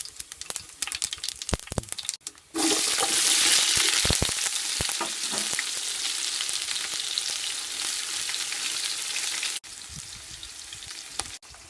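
Crab dropped into hot oil sets off a loud, sustained sizzle and crackle after a couple of seconds of clattering handling, continuing steadily before a brief cutoff near the end.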